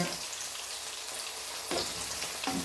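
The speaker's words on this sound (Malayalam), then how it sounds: "അപ്പോൾ നമ്മൾ ഇഞ്ചി വെളുത്തുള്ളി അരിഞ്ഞതിട്ടു" Chopped ginger and garlic fry in oil, giving a dense, even sizzle at moderate volume, with two brief scraping knocks of stirring toward the end.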